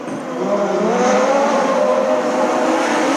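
Race cars in a production sedan race accelerate together off the green flag start, a loud, sustained roar of many engines building and holding steady at close range, with no talk over it.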